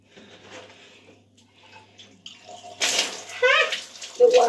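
Tap water runs at close range as hair is wetted during a home hair wash, a splashing, hissing pour that grows louder partway through, with quiet low background sounds before it.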